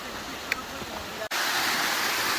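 Jones Gap waterfall in Jones Gap State Park, a steady broadband rush of falling water that briefly cuts out and resumes louder, with a small click near the start.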